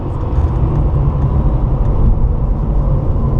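A Porsche 997 Targa 4S on a race circuit, heard as a loud, close, steady low engine roar with rumbling road noise, holding a constant level throughout without a distinct rise in revs.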